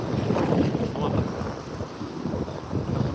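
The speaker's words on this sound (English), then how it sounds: "There's a nice little wave coming in again." Ocean surf rolls in on a Texas beach, a continuous low roar of breaking waves with heavy wind buffeting the microphone throughout.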